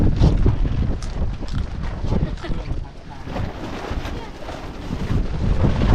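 Strong wind roars and buffets the microphone in gusts during heavy rain outdoors, a dense, continuous rush that swells and dips.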